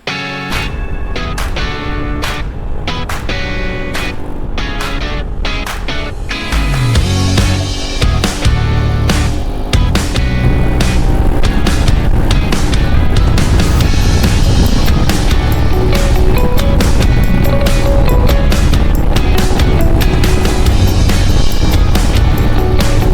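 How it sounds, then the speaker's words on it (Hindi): A motorcycle with a torn silencer pipe rides along a highway, its engine a loud, continuous rumble mixed with heavy wind noise that grows rougher and louder partway through and then holds steady. "सच बताऊं तो मुझे ये इंजन की जो आवाज़ आ रही है ना, इसमें मुझे ज़्यादा मज़ा आ रहा है।"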